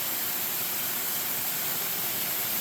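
Steady broadband roar of Stiles Falls, a tall waterfall in Floyd County, Virginia, dropping into a pool, heard up close as a continuous even rush with no voices.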